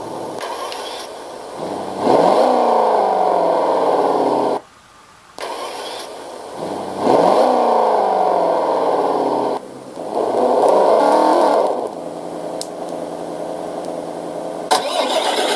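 An ESS One Plus car sound module plays a simulated engine: repeated start-up sweeps that rise into a loud steady running drone, cut off abruptly between cycles, with a brief quieter idle in the gaps.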